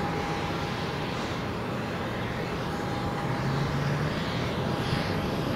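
An airplane takes off at Tenerife South Airport, heard as a steady, continuous broadband roar that holds at an even level throughout with no voices.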